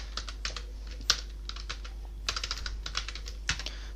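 Computer keyboard typed on in short irregular bursts of crisp clicks, close and clear over a steady low hum, with no talking.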